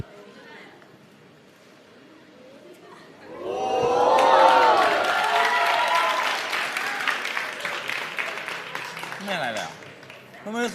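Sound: audience applause

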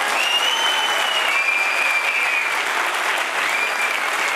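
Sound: applause from a concert audience

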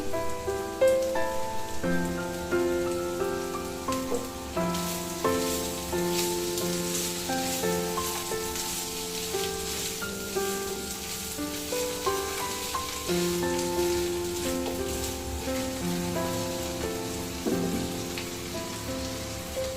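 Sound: potatoes sizzling while frying in oil

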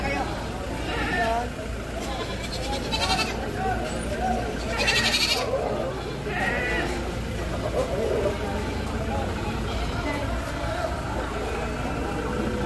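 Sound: mother goat and kid bleating

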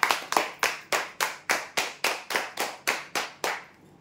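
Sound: applause for the prize draw winners

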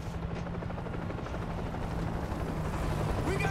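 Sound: helicopter crossing river in video game World War Z

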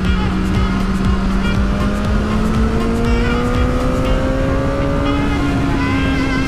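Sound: motorcycle engine roaring in third gear

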